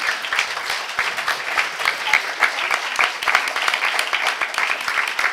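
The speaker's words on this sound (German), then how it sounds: "Jetzt nochmal ein Applaus." An audience at a talk breaks into sustained applause, dense steady clapping throughout, with a voice speaking briefly in German over it.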